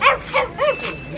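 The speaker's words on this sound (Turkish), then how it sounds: "Havladı." A French Bulldog gives a few short, yappy barks, about three spaced vocal bursts in quick succession, close and fairly loud, with a soft tonal whine trailing at the end and no talk.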